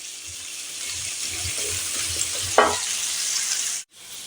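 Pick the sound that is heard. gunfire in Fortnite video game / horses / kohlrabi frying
kohlrabi frying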